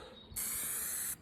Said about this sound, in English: basically it's not just like a spray, it's got a slit which runs across, which means when it sprays, it'll spray out wide